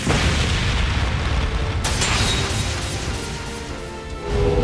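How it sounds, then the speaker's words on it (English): An improvised flashbang going off in a scene of the video game The Legend of Heroes: Trails beyond the Horizon, a sudden dense burst that holds as a loud, broad roar for several seconds before swelling again at the end. "They made an impromptu flashbang."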